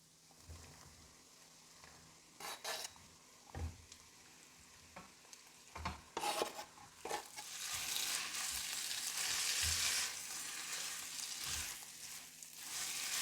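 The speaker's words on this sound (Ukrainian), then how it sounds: "Разом з моркою додаємо куряче філе та грибочки." Chicken fillet and mushrooms with onion and carrot fry in oil in a pan, a steady close sizzle broken by occasional stirring scrapes and thumps, swelling louder toward the end.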